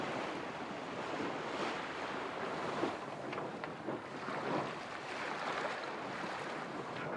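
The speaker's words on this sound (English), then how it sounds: "the sea is a bit rolly. That's why the head sail is flogging around a bit" A rolling sea washes steadily around a sailboat under sail in light wind, with the loose headsail flogging and rustling against a constant wash of water and wind noise at the microphone.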